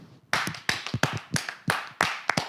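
An audience claps for itself, producing a lively patter of sharp, overlapping hand claps that starts abruptly after a brief quiet and keeps going steadily and fairly close.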